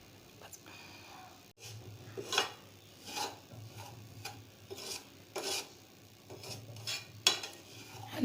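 Semolina roasting in ghee in a pan over very low heat, with a spoon scraping and stirring in repeated rasping strokes, close and moderately loud over a faint steady background hum.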